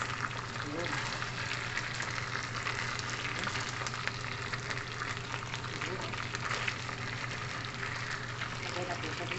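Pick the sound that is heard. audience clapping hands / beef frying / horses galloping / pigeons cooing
beef frying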